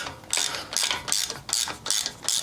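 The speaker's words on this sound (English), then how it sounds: "I'm going to try using some ball socket Allens here on the intake, which is actually working" Ball-end Allen wrench turning intake manifold bolts on a 1995 Harley-Davidson Evo Softail, giving a fast repeated ratcheting click in about six even bursts, close and clear with no voice.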